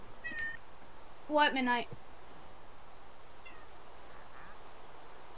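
A pet cat gives one clear, fairly close meow of several quick pitch-bending pulses, with a faint short chirp just before it and a quieter one after, while a person speaks briefly nearby.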